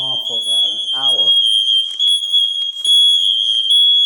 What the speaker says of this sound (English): every single fire alarm in every room is going off right now